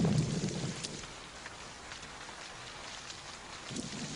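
Steady rain hisses across the scene, a dense broadband wash with low rumbling swells at the start and end that could be distant thunder, heard alone without voices.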